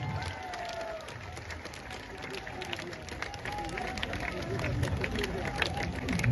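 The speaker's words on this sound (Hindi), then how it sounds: "जोरदार ताली बजाइए।" An indoor audience at an Indian political party event applauds to welcome the new party president, a steady broadband wash of many hands clapping with crowd murmur that swells slightly toward the end.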